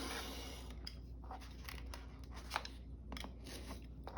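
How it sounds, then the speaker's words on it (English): Paper for a junk journal is cut into inch-wide strips with a dull knife: a series of crunchy, scraping strokes close up over a steady low hum. "So I'm just gonna cut some inch strips."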